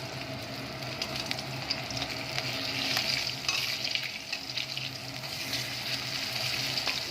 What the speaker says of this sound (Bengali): আর এখানে আমি ভাজতেও বসিয়ে দিয়েছি মাছটা।